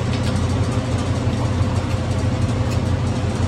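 A boat engine fitted into a car runs with a loud, steady low rumble and a rough, continuous drone throughout, heard close up with no talk.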